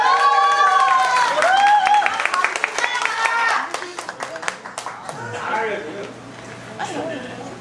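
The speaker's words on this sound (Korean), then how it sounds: "박수 한번 부탁드립니다." Audience at a live band concert in Daegu clapping in a scattered burst that fades over several seconds, with talk and singing-like voice tones over the start.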